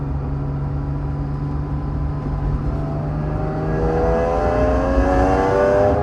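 A 1995 Honda NSX-R engine revs under acceleration from inside the car, a steady drone rising into climbing harmonic tones that grow louder toward the end, with no talking.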